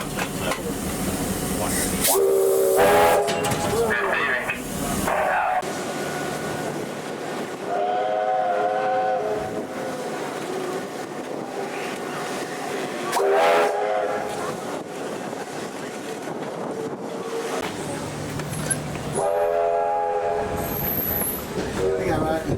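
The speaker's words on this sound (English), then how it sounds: "Can you blow the whistle?" A steam locomotive whistle sounds in several loud blasts, some short and some longer, over rumbling train noise and occasional talk, at the 2024 Steamrail Victoria open day.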